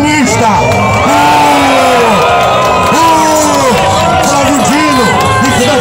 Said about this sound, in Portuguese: Uma salva de vaias para esse comunista.